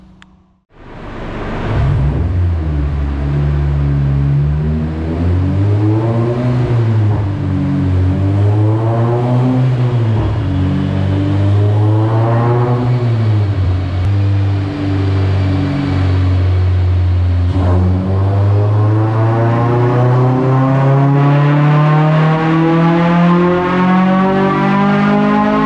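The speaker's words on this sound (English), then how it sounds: "stabilize the engine temperature again, and do some pulls and see how much power this original throttle body will make" A K-series engine in an 8th gen Honda Civic Si roars on a dyno with its stock throttle body, loud and close, with rhythmic swells and dips in pitch before a long, steady climb as it winds up toward the end of the pull.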